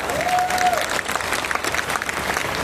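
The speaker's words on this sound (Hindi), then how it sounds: "तो सारा सदन एक बार तालियां बजाए" An audience at a poetry festival in Maharajganj claps in a dense burst of applause that carries on briefly and tapers off toward the end.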